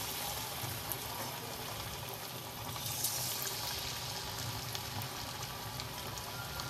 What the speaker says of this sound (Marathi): हो त्याला उकळी येते.